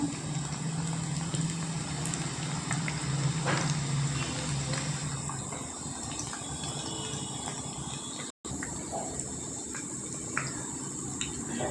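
Spinach pakoda frying in hot oil gives a steady, dense crackling sizzle that runs throughout, with a brief dropout near the end and no voices.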